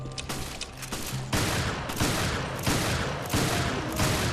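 Shotgun blasts in the video game Resident Evil Revelations Raid Mode, loud booming shots repeating roughly every half second to second in a steady sequence, close and dominant with no talking.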